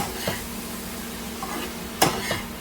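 Taco filling stirred and heated in a pan: a steady low sizzle with a few scraping spatula strokes, one sharper clatter near the end, close and moderately loud.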